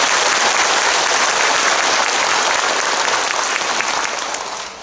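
A hall full of people at a special school entrance ceremony breaks into loud, dense applause that holds steady and then starts to fade toward the end.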